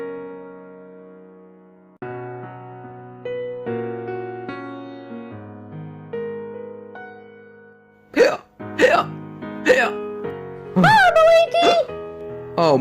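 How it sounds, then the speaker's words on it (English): A Cars Toons cartoon character hiccups after a stretch of gentle music: several sudden voiced hiccup bursts close together, loud and close, with cartoon voices. "what about what about my hiccups?"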